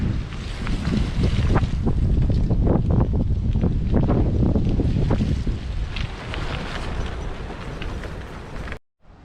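A stiff, cold north wind blustering across an open autumn cycling route, roaring steadily and loudly against the microphone with gusty rumble throughout before cutting out abruptly near the end.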